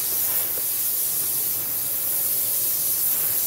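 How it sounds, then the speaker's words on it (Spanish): A hot clamp dropped into oil sizzles with a steady, broad hiss that holds at an even level throughout, close and fairly loud, in a chassis repair workshop. "Claro, está caliente. No mire, ¿sabes por qué? Porque le, ahora cayó la pinza en aceite."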